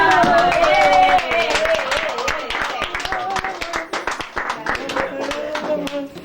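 People at a birthday party for an 80th celebration clap together in a lively burst of close, dense handclaps, with voices talking over the clapping throughout.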